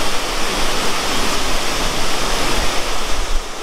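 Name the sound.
mountain water rushing by the road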